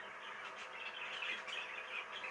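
An opaline cinnamon green cock budgerigar chirps and warbles in its cage, a faint, quick run of twittering notes with no talking.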